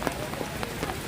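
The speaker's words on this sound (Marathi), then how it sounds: "सततचा पाऊस सुरू आहे" Steady monsoon rain patters on a hard surface in Karjat, India, during flooding of the Ulhas River, a dense hiss with scattered louder drops, brief and uninterrupted.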